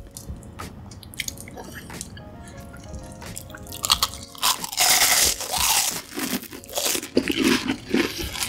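Shrimp chips topped with homemade spicy sauce are bitten and chewed up close, with crisp, loud crunches and wet, crackling chewing following sharp clicks of handling.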